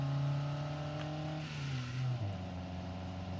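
A truck engine of about 140 horsepower strains in first gear, loaded with roughly 4,000 pounds of lumber in BeamNG.drive, a steady droning hum that sags in pitch under load while the clutch slips, close and alone.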